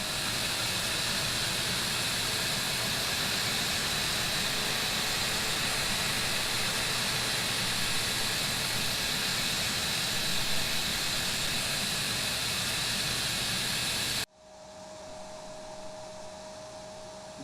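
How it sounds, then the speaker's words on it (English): A simulated MD-82 airliner jet engine spools up in X-Plane 11 with a steady, loud broadband roar and hiss, holding constant before cutting abruptly to a quieter low hum. "I set up everything for engine start"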